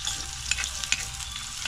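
Ginger stirred in a frying pan for octopus adobo, giving a close, steady hiss of frying with a few sharp spatula clicks.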